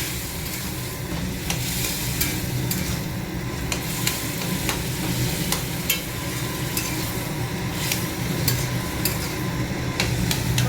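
A bottle gourd curry is stirred in a pan, with a steady sizzle throughout and a spoon scraping the pan in regular strokes, close and fairly loud, with no talking.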